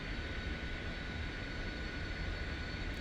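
Steady jet engine roar of a Lockheed T-33 in the MSFS flight simulator, a continuous broadband rumble with a high whine, held at constant loudness and heard alone.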